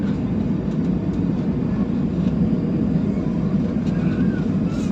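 Philippines AirAsia Airbus A320-216 landing on runway 06 in Manila, heard from inside the cabin as a loud, steady low roar of engines and rolling rumble, with no clear touchdown thump.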